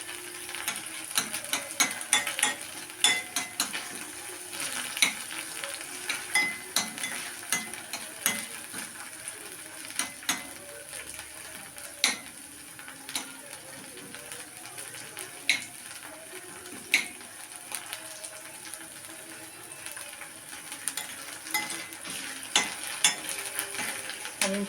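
Garlic frying in a pan gives a steady, soft sizzle, punctuated by frequent sharp clicks and scrapes from stirring, heard close with no talking.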